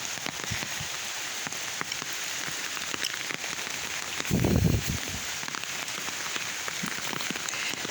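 Steady light drizzle patters on surfaces along a village road with a soft, even hiss, and a brief low rumble swells near the middle before fading back.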